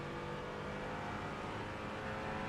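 A Mercedes AMG GT4 race car in the iRacing simulator at Daytona gives off a steady, fairly quiet engine drone with a constant whirring tone, no talk over it.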